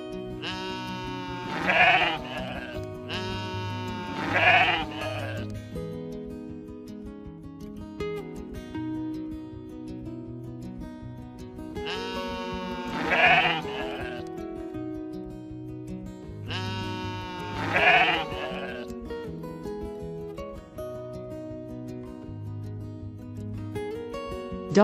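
Dall sheep bleat in four separate loud, wavering calls spaced several seconds apart, heard close and alone over a steady musical background.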